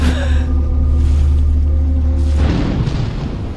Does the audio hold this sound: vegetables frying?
no